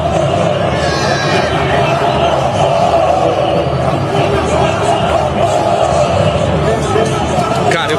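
Football fans jeer and curse the players in a dense, steady crowd roar, a constant mass of shouting voices at an even loudness throughout.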